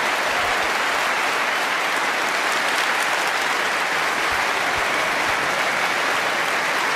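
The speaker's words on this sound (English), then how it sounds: "A prolonged round of applause for that magnificent century break" Sustained audience applause at the 2015 Masters snooker final between Neil Robertson and Shaun Murphy, greeting a century break: dense, even clapping from a large crowd that holds steady throughout.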